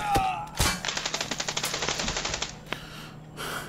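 Victor gun firing rapidly in a PC shooter game, a fast burst of evenly spaced sharp shots lasting about two seconds, with a single shot before it and another after.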